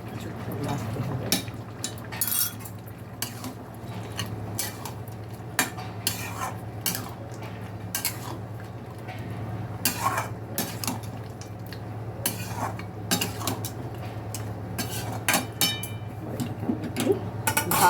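A utensil stirs potatoes, ridge gourd and vegetable stems cooking in mustard and poppy seed paste in a pan, with irregular scraping clinks and knocks against the metal over a low stove hum, close and without talk.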